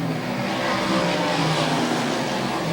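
Race cars roar along a track's backstretch, two cars about a second apart with another trailing, a steady loud engine drone with no talk.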